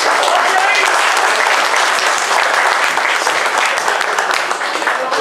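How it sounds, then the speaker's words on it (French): Sustained applause from an audience at a hunting-hound pack competition on hare, dense steady clapping filling the whole stretch, loud and close. "donc on peut l'applaudir"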